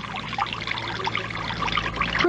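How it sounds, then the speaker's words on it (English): Water is poured into a pie pan with a penny in it, making a close, continuous splashing trickle that holds steady and builds slightly toward the end. "Don't move, because I'm going to pour the water in."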